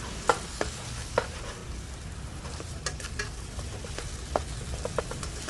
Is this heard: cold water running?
no